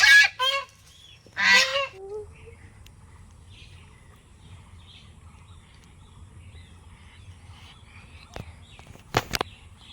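Ducks at a park inside a camp give several loud, close honking calls in quick bursts, then fall quiet under low background rumble, with a couple of sharp noises near the end.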